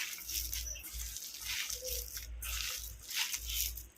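Hands mix masal vadai batter with onion, garlic, curry leaves and coriander, making close, wet squishing and squelching sounds in repeated soft pulses over a low background rumble.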